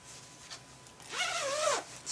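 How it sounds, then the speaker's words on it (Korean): A zipper is drawn closed on a large hooded jacket, one smooth rasping pull of about half a second, preceded by faint fabric rustles in a quiet room. "이런 점퍼의 경우에는 지퍼를 먼저 닫습니다."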